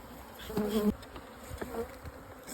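Bees buzzing around an open beehive during a hive visit: a faint, close hum with a few louder passes as individual bees fly near.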